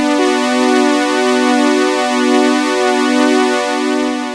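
Oberheim OB-X8 analog synthesizer running its arpeggiator on a rich, sustained patch, a steady harmonic drone with a gently pulsing, shimmering stepped pattern, loud and continuous with no talking.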